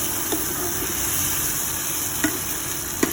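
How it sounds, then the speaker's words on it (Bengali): Potatoes and shrimp fry in a pan, giving a steady close sizzle with a few brief clinks of stirring. Nobody speaks. "আলুটা আরেকটু ভাজা হলে চিংড়ি মাছও দিয়ে দিয়েছি।"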